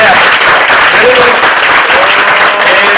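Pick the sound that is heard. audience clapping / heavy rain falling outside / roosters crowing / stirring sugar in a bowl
audience clapping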